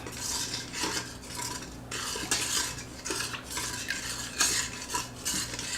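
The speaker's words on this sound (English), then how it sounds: "So we're just going to take a minute and stir it around." A spatula stirs teriyaki sauce inside an Instant Pot's metal inner pot, scraping and clinking in repeated close strokes over a low steady hum, with no speech.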